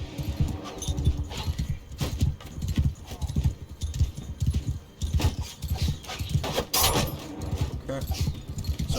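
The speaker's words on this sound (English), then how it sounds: "How do they have a damn horse?" Horse hooves clatter in a rapid galloping rhythm in the Mount & Blade II: Bannerlord video game, loud and busy with other battle noise and a voice speaking over it.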